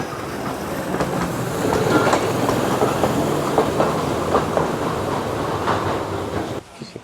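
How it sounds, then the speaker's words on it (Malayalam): The Wulai scenic train in Taiwan rolls past nearby with a loud, steady rumble and rhythmic wheel clatter on the rails, fading out near the end, no talk heard. "ഈ കാണുന്ന സീനിക് ട്രെയിനിലാണ് നമുക്ക് വുലൈയിലേക്ക് എത്തേണ്ടത്."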